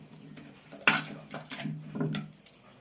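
A spoon stirring softened tamarind in a pot, a sharp metallic scrape followed by a few duller clattering strokes against the pot, close and moderately loud, no talking.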